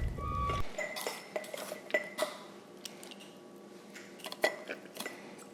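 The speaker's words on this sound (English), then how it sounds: "now I am just filling the last jar with our diced tomatoes" Diced heirloom tomatoes are spooned into a glass jar, heard as scattered close clinks and taps of a utensil against glass, with soft wet plops between the knocks in an otherwise quiet kitchen.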